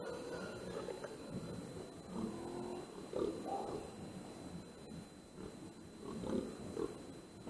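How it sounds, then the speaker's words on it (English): Pigs grunt and snort in irregular bursts at moderate distance, set against a steady outdoor background hiss on a farm where pest control with an air rifle is under way. "The piggies will have him."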